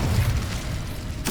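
An Incendio fire spell cast in Hogwarts Legacy, a low muffled boom and rumble that ends in a brief bright burst of flame.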